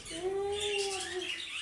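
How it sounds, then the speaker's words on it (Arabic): Pet budgerigars calling up close indoors, one drawn-out whistled chirp with a faint chatter of softer tweets behind it. "جواد كيف العصافير؟"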